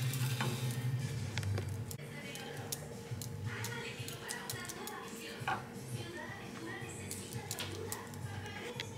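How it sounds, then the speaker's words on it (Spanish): Sugar being stirred in a frying pan as it melts into caramel for a flan, a soft continuous sizzle with light scraping and ticking of the utensil, with a voice talking over it. "Y lo vamos a estar aquí en el sartén moviendo para que no se nos vaya a quemar."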